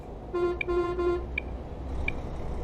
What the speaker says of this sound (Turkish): Biz de sarı yanınca kornaya basıyoruz.